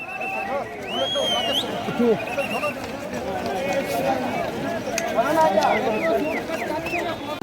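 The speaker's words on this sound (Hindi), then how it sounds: "तो प्रकाशदा फाइनली घोड़े पे चढ़ गए।" A horse on a crowded Amarnath pilgrimage mountain path neighs more than once over clip-clop of hooves, with people talking and a busy crowd hubbub throughout.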